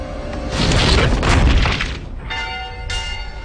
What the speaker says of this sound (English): Heed the warning bell, for they are coming.